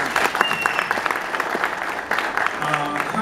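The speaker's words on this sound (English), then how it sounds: "give yourselves a round of applause for coming out" An audience at a lecture with two speakers breaks into steady, dense applause, with clapping sustained across the whole stretch and a voice faintly beneath it.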